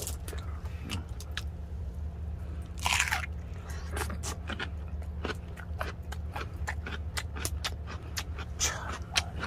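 Grilled Korean hanwoo beef being chewed up close at a campsite: crisp, crunchy bites and wet chewing repeat throughout over a steady low hum, with no talking.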